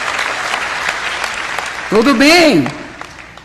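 Audience applause continues as a steady clapping wash while someone speaks briefly over it with an animated, rising and falling voice.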